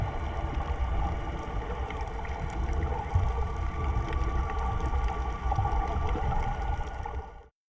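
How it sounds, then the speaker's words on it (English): Electric water scooters heard underwater about 100 yards away off Galleon Beach, Antigua, a faint steady mechanical hum with layered whining tones over low murky rumble, continuing for about seven seconds before cutting off. "If you listen close while watching this beautiful stingray, you can hear the scooters from about 100 yards away."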